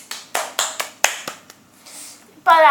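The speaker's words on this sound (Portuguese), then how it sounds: "Aplausos" Clapping applause, about seven sharp hand claps in a loose, slightly uneven rhythm, close and fairly loud, followed by a brief burst of speech.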